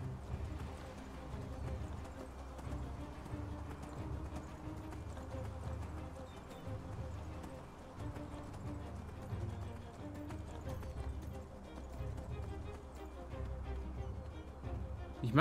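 Horse hooves clip-clop steadily in the fantasy video game Enderal, a continuous trotting rhythm of even mid-volume footfalls with game ambience behind and a voice talking over it at times.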